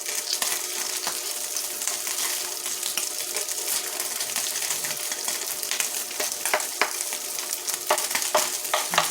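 Corned beef browning in a frying pan crackles and sizzles steadily up close, with scraping and tapping from a spatula stirring it now and then, and no one talking.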